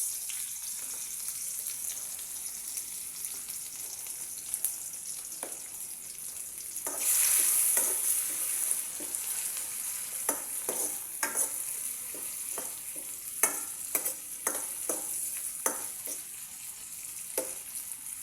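Green beans and chicken sizzling in oil in a pan while being stirred, a continuous fry hiss broken by a burst of louder sizzle and many short scraping and tapping strokes of the utensil, close up.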